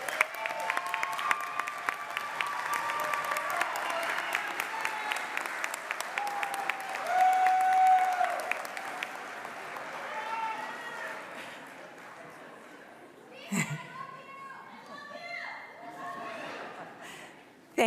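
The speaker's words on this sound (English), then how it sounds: "Give them a round of applause." An audience claps at a university commencement ceremony in Charlotte. A sustained crowd of rapid clapping fills the first half with tonal sounds over it, then fades to thinner scattered claps, a sharp thump, and voices near the end.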